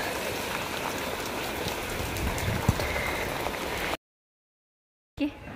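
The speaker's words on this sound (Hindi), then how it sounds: "बारिश पड़ रही है सब ऐसे ही पड़ा और देखे बारिश।" Steady rain patters on a rooftop during the monsoon, a dense, even hiss of drops. It stops abruptly, then a short burst of noise follows after a gap.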